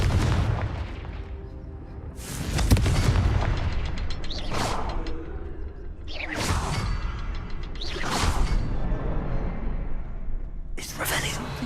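A Confringo blasting spell in Hogwarts Legacy erupts in several booming bursts with whooshing swells, spaced every couple of seconds over game ambience, with a voice speaking in places.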